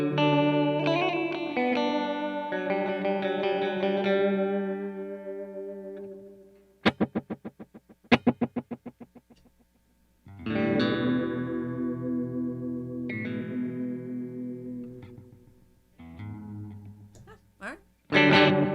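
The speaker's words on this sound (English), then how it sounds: "let's see how it sounds when you crank up the feedback on the middle setting" Guitar played through an Old Blood Noise Endeavors Black Fountain delay pedal with feedback cranked on the middle setting, repeating notes and strums that ring into trailing, warbling echoes, with gaps between phrases.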